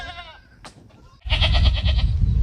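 Goats bleat on a goat farm, one call up close, then a louder, longer wavering bleat that fills the second half.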